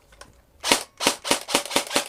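An airsoft gun with shrink-tubed parts fires in quick succession, six sharp cracking shots about a third of a second apart, loud and close after a short quiet lead-in.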